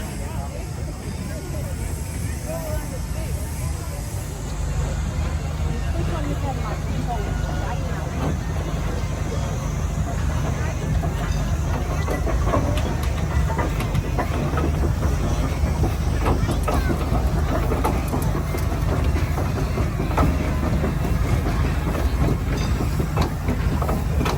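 Steam Showman's engines trundle round at the Cheshire steam fair, making a continuous dense mechanical rumble and clatter that runs steadily throughout under a commentator's voice.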